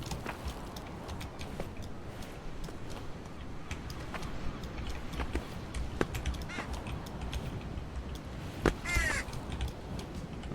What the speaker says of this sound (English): the birds have very distinct sounds for when they're charging and when they're like mad